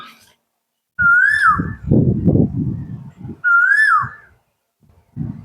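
Two loud, clear whistled Asian koel calls, each rising then falling, separated by low rumbling noises and short pauses.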